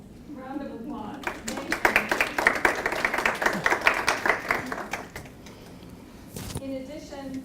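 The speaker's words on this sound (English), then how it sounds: "So give them a round of applause." A small audience at a poetry reading claps for graduate assistants, a dense burst of hand claps lasting a few seconds and then tapering off, with a voice talking before and after.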